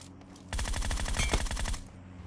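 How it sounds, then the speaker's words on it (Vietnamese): Rapid automatic gunfire in the PUBG Mobile video game rattles out in one loud, close burst of about a dozen evenly spaced shots lasting just over a second, with no talking over it. "Sao nghe tiếng súng nữa nhỉ ạ?"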